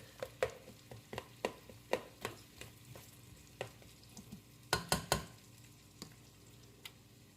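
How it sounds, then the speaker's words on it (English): Kale greens stirred in oil in a pan, a run of sharp scraping clicks and soft taps at an uneven pace, bunching into a few louder knocks near the end over a faint background sizzle. "I'm just going to stir it up to make sure it's all nice and coated in the oil and it's all going to cook evenly."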